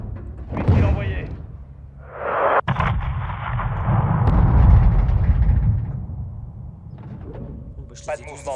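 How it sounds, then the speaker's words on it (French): In Modern Warfare 2, a missile launches with a rising rush that builds into a long, loud roaring blast and rumble, then fades to low noise before a sharp radio crackle at the end. "Missile envoyé."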